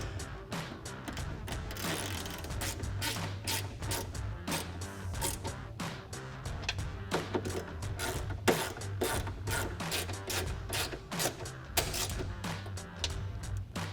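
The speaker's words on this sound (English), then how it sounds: "then we'll just go ahead and tighten them down with our ratchet" Ratchet tightening bolts on a decklid panel of a 2015-2023 Ford Mustang, giving rapid, even clicking bursts in quick succession, close and fairly quiet, with light handling noise between strokes.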